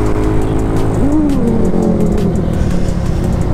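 Yamaha Mio motorcycle with a replaced carburetor and removed air filter, engine droning loud and close with a rising rev in the middle, no talk.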